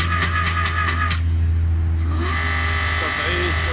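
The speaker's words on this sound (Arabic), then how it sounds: "كان الدبابات ما شاء الله جاهزين، دبابات للتطعيس" Quad bikes used for dune bashing on the sand at Nafud Uslan near Buraydah rumble and rev steadily close by. Voices and other noise from the desert camp sit underneath.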